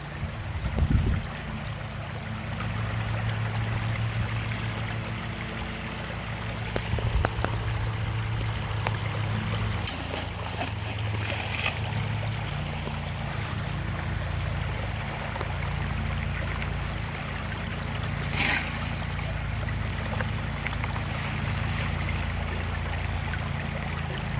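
A spring-fed creek flowing over bedrock at a gold prospecting site, a steady soft rushing of water with faint trickles running throughout, fairly quiet and unbroken, with a couple of brief knocks.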